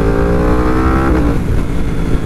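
Yamaha R1 sport motorcycle of over 200 hp revving hard up close, a loud, rising engine whine that climbs and then drops back over a couple of seconds with no talk.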